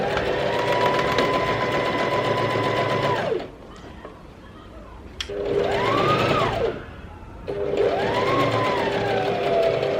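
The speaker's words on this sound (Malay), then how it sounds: "Kita hanya jahit yang dua keping ni je. Jahit 2 layer tu saja." A sewing machine stitches two layers of dress fabric in steady, whirring bursts: one long run, a short pause, then two more close, loud runs with brief quiet between them.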